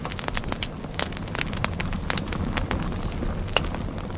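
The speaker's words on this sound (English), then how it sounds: "I'm having a bonfire in the vegetable garden, burning all the dead weeds and bits of stick and bramble that I've cleared out around the place" A garden bonfire of dead weeds, sticks and bramble in a vegetable plot crackles and pops steadily, with dense irregular snaps over a continuous roaring hiss of flames, close and fairly loud.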